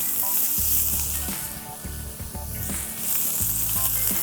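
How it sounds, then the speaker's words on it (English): Salmon fillets searing face down on a hot griddle in lemon-flavored olive oil, a loud continuous sizzle and crackle with occasional scraping or stirring knocks, no talking. "Get those on the griddle and you can hear that nice sear"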